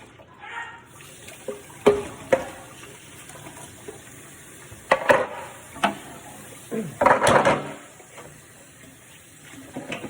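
Water runs while a Samsung refrigerator drawer is washed in a sink, with intermittent splashes and plastic knocks and rattles up close, loudest in several bursts toward the middle and end.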